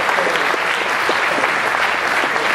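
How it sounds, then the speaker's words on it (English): Loud, sustained applause from a large crowd, dense clapping that holds steady throughout without pause. "Round of applause for all of you."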